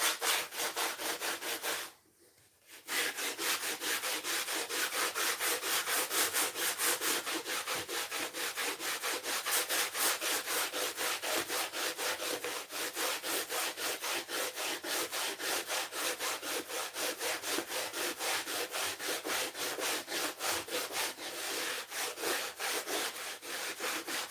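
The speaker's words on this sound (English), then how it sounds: "you can see how easy it is to sand it off" Sandpaper rubs back and forth over a model railway embankment in fast, steady strokes for over twenty seconds, close and continuous with a brief pause near the start.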